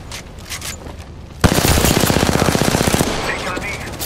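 Apex Legends gunfire: after a quiet stretch with faint distant shots, a loud burst of rapid automatic fire erupts and rattles on continuously, close and dominant.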